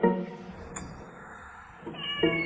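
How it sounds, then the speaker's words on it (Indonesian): A house cat meows close by, a loud whiny cry at the start and shorter mews near the end, with a quieter stretch between them and no one talking. "Kucing siapa ini?"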